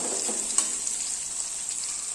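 Raw mango pieces fry in oil with a soft, steady sizzle and an occasional sharp pop, close by and fairly quiet.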